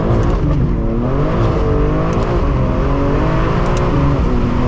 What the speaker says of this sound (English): I'm gonna give it some gas.